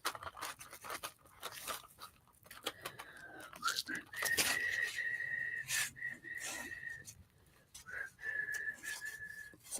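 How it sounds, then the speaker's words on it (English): A person whistles a few thin, steady tones indoors, softly and in short phrases separated by pauses, with faint clatter and a little talk in the background. "Some people don't like whistling."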